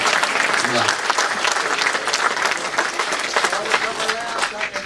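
Audience applause and scattered cheers at a Delhi mushaira poetry gathering, a dense steady wash of clapping throughout with voices mixed in.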